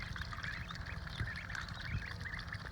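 Ducklings eating mealworms and splashing in water on a hot day, a dense, steady chorus of soft peeping and quacking calls with faint water movement, fairly quiet throughout.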